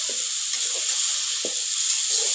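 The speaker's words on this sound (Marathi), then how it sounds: "थोडं पाणी टाकून फ्राय करून घेऊ तेल सुटेपर्यंत" Onions fry in oil with a splash of water in a home kitchen: a steady, close hiss of sizzling runs throughout, with a few soft stirring knocks.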